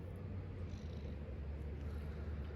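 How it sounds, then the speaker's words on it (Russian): A well-fed cat at the Crimean resort of Kurortnoe purrs in a steady, close, low rumbling drone that runs unbroken throughout, with no voices over it. "И этот мурлычет."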